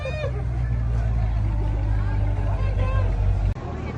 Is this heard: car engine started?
yes